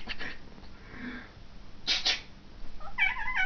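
A cat meows several times nearby, short strained cries with a sharper, rising call near the end, over quiet room noise.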